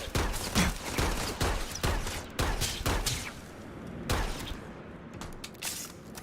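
Bursts of gunfire from the video game Starfield, a run of sharp repeated shots followed by a pause and another short volley, loud and close, trailing off near the end.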